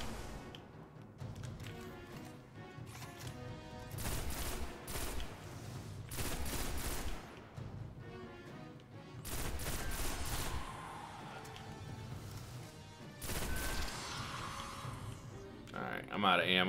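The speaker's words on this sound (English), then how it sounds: "I love the sound that Patience in Time makes. It's like that popping sound." Bursts of rapid popping gunfire from the Patience and Time weapon in the Destiny video game come in several loud clusters separated by brief quieter gaps, with a voice talking throughout.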